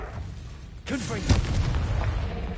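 A Confringo blasting spell bursts in the Hogwarts Legacy video game on PS5, a sudden booming blast with a crackling tail, loud and close amid busy game sounds.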